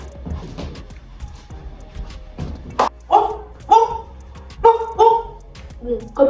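A woman playfully imitates a dog with short, loud woof-like vocal yelps, several bursts in a row after a stretch of talking, close to the microphone.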